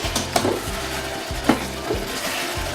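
A veal chop cooks in a little oil in a pan, giving a steady soft sizzle with a few light clinks and scrapes of a utensil against the cookware, close and without speech.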